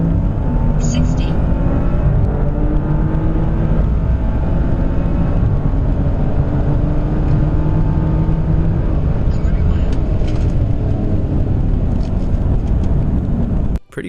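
A 2017 BMW M2 with a Dinan stage 4 tune and a 2014 BMW M235i with a VF hex stage 2 tune and Wagner downpipe accelerating hard in a drag race: a loud, continuous engine roar with rising pitch that ends abruptly, with speech underneath.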